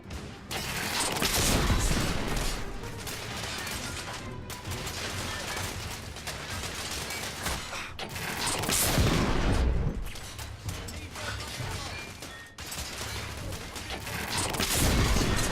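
Artillery fire and gunfire in the game The Order: 1886, with repeated heavy blasts and bursts of shots over a constant battle din, rising in intensity at intervals.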